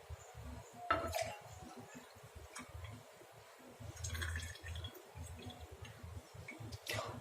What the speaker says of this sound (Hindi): मैं इसमें सारा नारियल का तेल डाल दूंगी। उसके बाद आपको इस ऑयल को मिक्स कर देना है इसमें।